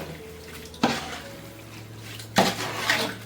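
Chicken biryani marinade mixed with oil in a large pot for bulk cooking, heard as two loud, wet clattering bursts of utensil against metal, separated by a quiet pause.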